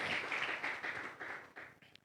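A church congregation claps together during a live-streamed service, a soft, fairly distant patter that thins out over a couple of seconds into scattered claps.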